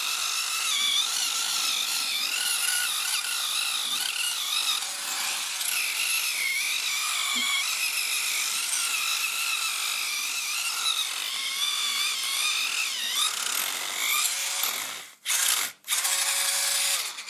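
An electric peeling brush buffs callus from feet, used dry, in a close, steady, high whirring drone with a slight pitch wobble, cutting out briefly near the end before starting again.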